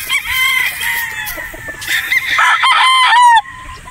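A straight comb broodstag rooster crows close by, with a strained crow and clucking calls in quick succession that end abruptly, loud and clear with no talk over it.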